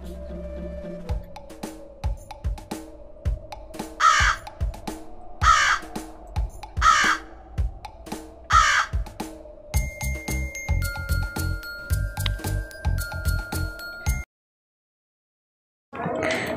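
Repeated crow caws in a cartoon, four loud harsh calls at steady intervals, over a busy musical background with rhythmic beats, then a brief pause.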